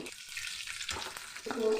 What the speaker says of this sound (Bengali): আলুর টুকরোগুলো গোল্ডেন ব্রাউন করে ভেজে নেব